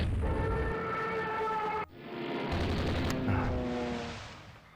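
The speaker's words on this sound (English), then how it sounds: "Something else has been hit by a torpedo." A torpedo hit explodes in the naval strategy game Rule the Waves 3, a loud sustained rumbling blast with tonal, siren-like layers that cuts out briefly and then swells again before slowly fading.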